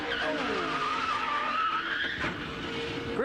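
A NASCAR race car skids as its back end swaps out under throttle, giving a long, loud, wavering tire squeal over a roaring engine, close and sustained for several seconds.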